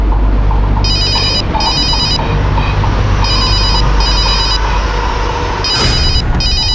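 A mobile phone rings in bursts of a repeating electronic ringtone over a steady low rumble, in a tense crime drama scene, with a brief thump near the end.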